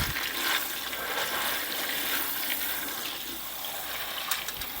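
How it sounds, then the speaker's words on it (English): Dry pinto beans being rinsed under a running kitchen tap into a sink, a steady close rush and splash of water running the whole time without talk. "I'm just rinsing these off because sometimes they have dust on them"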